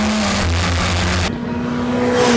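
A historic Formula Ford race car at the Croft Nostalgia Festival accelerates hard out of a hairpin, its loud close engine note rising steadily through the gears with a brief dip at a gear change.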